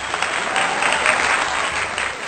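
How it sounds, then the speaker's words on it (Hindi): Loud, dense applause from an audience at a Hindi poetry recital, steady clapping that fills the whole moment without pause. "जोरदार तालियां"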